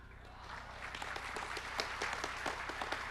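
Student audience at a campus orientation session clapping together, a steady wash of many hands fairly faint and distant, evenly sustained throughout.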